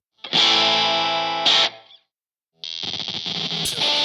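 Squier Paranormal Esquire Deluxe electric guitar through a 5-watt tube amp, two sustained ringing chords, a short pause, then a busier strummed passage, close and loud with no talking.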